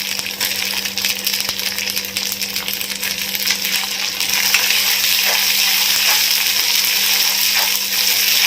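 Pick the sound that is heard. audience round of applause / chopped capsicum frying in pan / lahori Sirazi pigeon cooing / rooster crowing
chopped capsicum frying in pan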